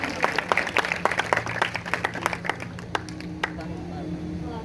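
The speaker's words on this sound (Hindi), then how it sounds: "जोरदार तालियों से प्रभु की महिमा करेंगे" A church congregation applauds during a worship testimony with a burst of quick, scattered claps that thin out and fade over a few seconds, mixed with a speaking voice.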